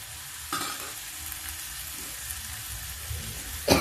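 Masala with peas sizzling and frying in a pan, a steady soft crackle with occasional stirring scrapes and a louder clatter near the end.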